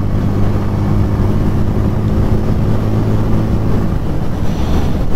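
A 2024 Bajaj Pulsar N150 motorcycle ridden in fifth gear at close to 80 km/h gives a steady, unbroken engine drone mixed with rushing wind noise, with no talking.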